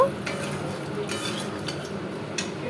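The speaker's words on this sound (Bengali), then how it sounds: "তারপর এটাকে ভালো করে নাড়িয়ে নেব" Cumin, dried red chilli and bay leaf stirred in hot oil for a fish head curry, a soft steady sizzle with faint scraping of a utensil against the pan and a few light clinks.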